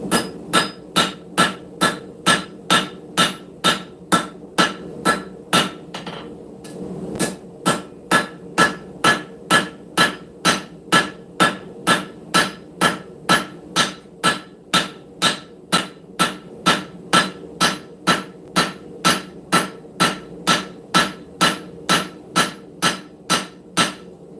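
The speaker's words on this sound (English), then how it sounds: "We're going to switch to the straight peen, cross peen, and draw this out." A cross peen hammer strikes steel in a steady, loud, evenly spaced rhythm while drawing out the blade of a forged camp knife, with ringing metallic blows and one short pause partway through.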